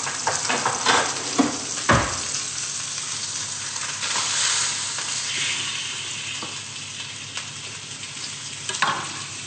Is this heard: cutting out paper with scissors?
no